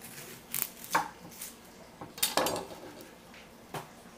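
A knife cuts through an onion on a kitchen board, giving about five or six sharp, quiet chops spaced irregularly, close up with no talk.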